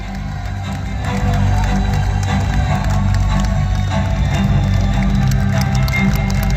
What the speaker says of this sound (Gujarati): ખૂબ ખૂબ તાળીઓથી આપણે વધાવી લઈએ.